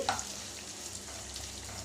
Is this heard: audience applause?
no